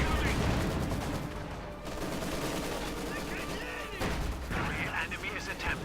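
Dense, continuous gunfire from a Company of Heroes 2 match, with MG-42 machine-gun bursts and grenade blasts between Soviet and German forces, loud and unbroken throughout.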